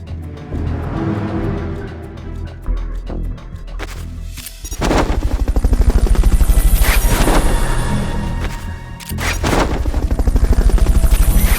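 Helicopter rotor thumping and rapid gunfire in the Metal Gear Solid Peace Walker video game, loud and continuous with pulsing bursts and a short lull partway through, no talking.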